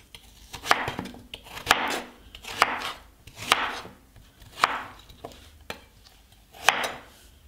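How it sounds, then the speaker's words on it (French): A knife cuts through a small piece of pumpkin on a board, giving about eight distinct chops at an uneven pace with soft slicing sounds between them, close and fairly quiet. "Et je vais couper un petit morceau comme ceci."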